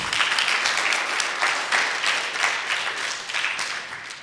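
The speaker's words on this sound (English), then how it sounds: "Can we clap again for Dr. Guy?" An audience at a lecture applauds steadily, a dense wash of many hands clapping at close range that gradually thins toward the end.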